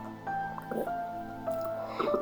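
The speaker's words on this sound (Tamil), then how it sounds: "இதை ஒருக்கா கழுவி எடுப்போம்." White flattened rice (poha) being washed in water, with soft squishing and dripping sounds as the grains are worked by hand, faint and close, over a steady background hum.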